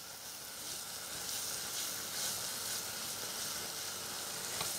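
Onions frying in butter in a pan for potato mushroom bitterballen, a soft steady sizzle with faint stirring, fairly quiet and even throughout.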